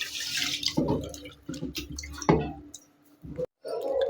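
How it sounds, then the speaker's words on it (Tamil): Millets being rinsed in water and then covered with water to soak, with sloshing, splashing and trickling pours in short bursts between brief pauses, close up and fairly loud. "இப்போ 2-3 தடவை நல்லா அலசிட்டு அது ஊறி வர அளவுக்கு தேவையான அளவு தண்ணி ஊற்றி நம்ம ஊற வச்சுருக்கோம்."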